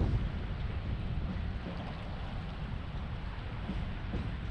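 Strong wind roars and buffets steadily while fishing for tautog (blackfish) on light tackle off New Jersey, a dense low rumble of gusts and microphone wind noise with no voices.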